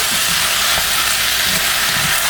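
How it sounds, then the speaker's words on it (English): Broccoli is stir-fried in a thin wok with beef, producing a loud, close, continuous sizzle with soft scraping and tossing sounds from stirring. "And also stir fry those. I'm going to cook these for about 2 minutes."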